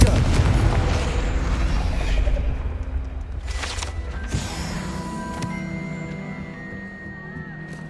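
The Confringo blasting curse in the video game Hogwarts Legacy: a loud booming explosion at the start with a rumbling blast that decays over several seconds, leaving faint magical ringing tones and ambient game sound behind.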